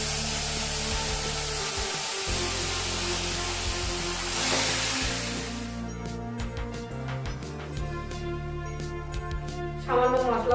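Marinated chicken dropped into hot spiced oil for Bengali chicken kosha, a loud broadband sizzle that swells as the meat hits the pan, then settles into steady crackling and spitting, with some utensil clatter.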